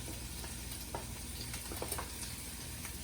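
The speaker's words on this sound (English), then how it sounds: "I'm going to stir that around a little bit and try to get up some of those bits from the pan." Creamy herb chicken sauce with parsley, thyme and rosemary sizzles faintly in a pan as a spoon stirs and scrapes at the bottom, a low steady crackle with occasional soft clicks and no talking.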